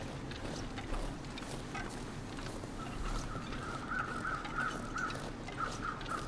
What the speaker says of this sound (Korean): 까마귀 소리 들리고.